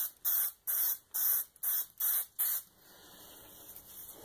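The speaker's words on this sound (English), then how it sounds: "Now, just a couple of quick spritz. Whoops, helps to point the glue the right direction." Seven short, sharp hisses of spray glue from an aerosol can fire in quick succession, close and loud, followed by quiet room noise.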